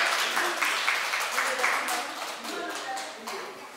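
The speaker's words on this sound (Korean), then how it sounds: "박수 한번 주세요" Dense crowd applause at a year-end awards gathering, steady and fairly loud across the whole stretch, with voices carrying over it and a faint musical tone now and then.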